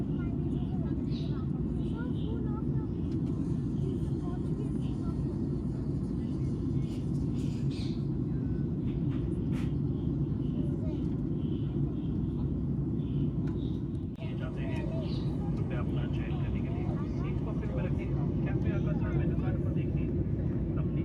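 Steady, loud cabin roar of an airliner climbing out after takeoff from Mumbai over the Bhayandar creek, a continuous low rumble that fills the whole stretch with faint scattered cabin noises on top.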